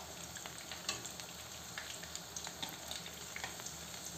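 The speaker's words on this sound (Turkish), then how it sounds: "Ve yine 1-2 dakika bekleyelim kızarması için." Bulgur kebab patties with egg fry steadily in a pan, a dense continuous sizzle with small crackling pops throughout, close and alone without voices.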